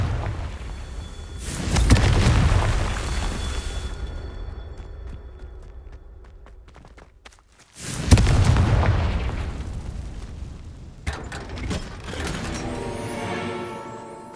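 Two Confringo explosion spells in Hogwarts Legacy, each a loud booming blast with a rumbling tail that decays over several seconds, followed by crackling game effects and no talk.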